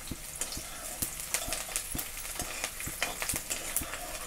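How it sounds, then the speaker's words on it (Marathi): Onion and curry leaves fry in plenty of hot oil, giving a steady close sizzle broken by regular stirring clacks roughly every half second, with no one speaking. "कांदा तेलामध्ये छान असा तळून निघलेला आहे, लालसर झालेला आहे।"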